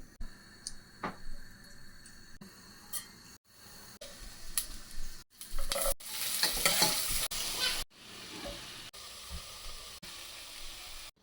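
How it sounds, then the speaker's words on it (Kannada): Ghee tempering for a cashew, cauliflower and broccoli dish sizzles loudly in a pan while a spoon stirs and scrapes, with sharp clinks and bursts of crackling that swell in the middle and ease off toward the end; no talking. "ಆಮೇಲೆ ಇದನ್ನು ತುಪ್ಪ ಒಗ್ಗರಣೆ ಕೊಡೋಣ."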